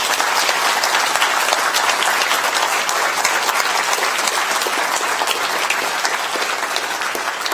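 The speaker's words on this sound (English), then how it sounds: "so give them a round of applause too." Loud, dense audience applause after a talk about the universe, continuous clapping from a full room holding steady throughout with no voices on top.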